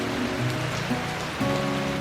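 Steady rain from Tropical Storm Barry falls on a riverside camp along the Mississippi, a continuous dense patter with no breaks, holding an even level throughout with a slight swell near the end.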